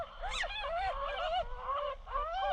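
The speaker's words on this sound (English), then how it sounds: "See the birds, when they hear me call, they respond already, and their eyes aren't even open." Baby birds with eyes not yet open call back in reply to a person's call, giving a close, continuous string of rising and falling squeaky cries over a low background hum.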